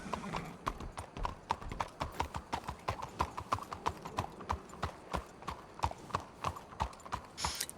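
Horse hooves clip-clop in a roleplay video game, a steady, close rhythm of sharp clops at a walking pace that runs the whole time, with a faint voice now and then.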